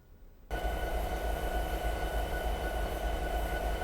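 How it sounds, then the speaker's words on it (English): A video game diesel locomotive, an SD70MAC, rumbles steadily after a sudden start, a deep continuous drone with a faint tonal hum on top. "the Cabotis SD70 MAC diesel locomotive"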